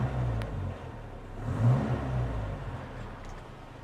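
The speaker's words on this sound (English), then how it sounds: "Have a little listen when I rev it." A 1960 Hillman Minx Series IIIA engine revs up with a low, smooth rumble through an upgraded exhaust, swelling to a peak midway, then settling back to a steady idle.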